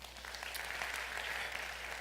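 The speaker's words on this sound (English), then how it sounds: "what about a round of applause for MVP?" Audience at a formal event applauding chairman Manny Pangilinan, a faint, steady patter of many hands clapping heard from a distance.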